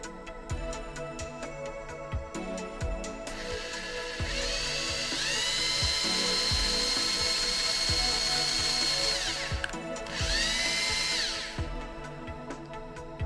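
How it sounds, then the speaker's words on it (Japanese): A small power drill whines as it bores a mounting hole in a circuit board, two sustained high-pitched runs of several seconds each, close and loud, with clicks and handling knocks before and between them; no speech. "固定する穴を開けます。"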